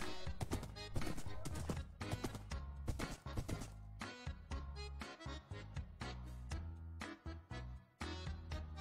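A horse in Minecraft Bedrock Edition makes a dense run of rhythmic hoof clops, loud and close throughout, with bursts of other game sounds mixed in around them.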